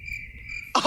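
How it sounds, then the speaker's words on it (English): Crickets chirp in a steady, high, continuous trill at moderate volume, then a sudden loud burst of noise cuts in over them at the very end. "Enough with the crickets"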